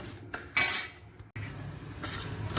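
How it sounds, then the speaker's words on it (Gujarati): A spoon mixing food in a pan, with a few sharp metallic scrapes and clinks against the pan, separated by short quiet gaps. "હવે બધું સારી રીતે મિક્સ કરીશું"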